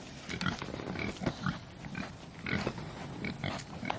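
A Berkshire pig on a farm grunts close by in a rapid, irregular string of short snorts and grunts that carry on throughout.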